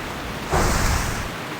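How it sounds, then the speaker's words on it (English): Steady rain in the game World of Warcraft (Turtle WoW), a broad hissing wash that swells louder partway through and holds, alone with no voices. "just what we need for it to rain even harder"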